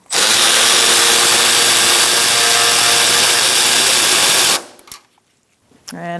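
A power tool, likely an impact driver, runs loud and steady for about four and a half seconds while backing a bolt out of a 2002-2006 Honda CR-V during AC condenser fan work, then stops, followed by faint clicks.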